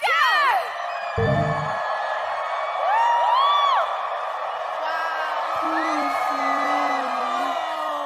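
A large festival crowd at a Coachella concert cheers, whoops and screams as a Mexican wave sweeps through, a loud, sustained roar with rising yells and shouts layered throughout.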